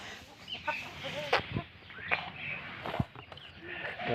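Chickens offered for sale cluck and call softly at close range, with scattered short squawks and a few footsteps or bumps between them in a quiet setting.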